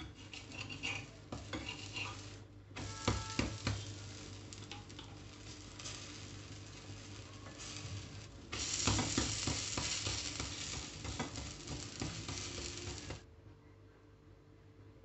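Tomato uttapam batter fries on a dosa griddle, with a steady sizzle, a few metal scrapes and clinks of a utensil, and a louder burst of frying midway before the sound drops away.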